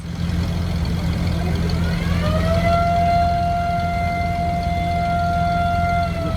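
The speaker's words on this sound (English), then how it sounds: "they're running their siren for us" A siren winds up from low to a high sustained wail over a steady rumbling engine, loud and close.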